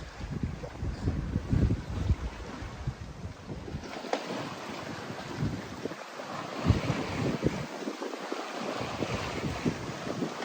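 Steady wind of about 14 knots rushes and buffets the microphone on a sailboat at sea off Greece, with waves and the hull's wash rumbling underneath, no voices.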